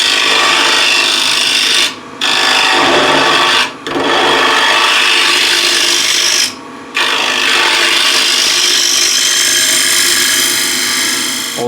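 Loud, continuous rasping scrape of a scraper cutting a wooden bowl spinning on a lathe, close and steady, broken by three brief pauses as the tool lifts away.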